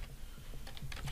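Someone types a search on a computer keyboard, a quick irregular run of soft key clicks heard up close and alone.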